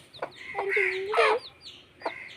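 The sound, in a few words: hen clucking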